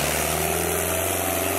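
A Sonalika 60 tractor at a harrow competition runs with a steady, droning engine hum that stays constant and fairly close, with no voices over it.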